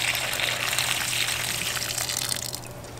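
Murky, silt-laden water gushes out of a house water filter housing in a steady, loud, close rush that continues without a break.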